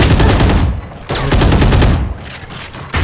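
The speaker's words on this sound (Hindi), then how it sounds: "oh very nice shot bye Anish" Dense gunfire in a Valorant esports tournament match rattles in rapid automatic bursts, loud and close. Brief pauses break the shooting before it starts again.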